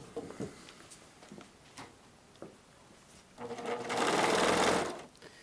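A serger sewing machine stitching the hem of a blouse sleeve: quiet handling clicks and rustles come first, then a steady, close whirring run lasting over a second before it winds down.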